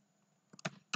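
A few quick key presses on a computer keyboard, two or three close, sharp clicks after a near-silent start.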